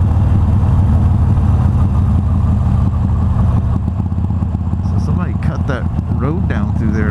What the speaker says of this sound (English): the exhaust is all on the right side. It has a different sound when you sway